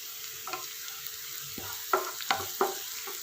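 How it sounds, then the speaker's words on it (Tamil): Chilli powder, pepper, turmeric, coriander and chopped curry leaves sautéed in a pan for a mushroom omelette: soft continuous sizzling broken by several sharp spatula scrapes and clacks, close and without voices. "இதெல்லாம் சேர்த்து நல்லா வதக்கி விடுங்க."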